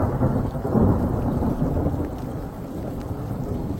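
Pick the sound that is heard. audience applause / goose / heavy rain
heavy rain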